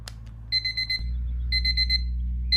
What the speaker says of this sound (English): Just woke up to the alarm at first light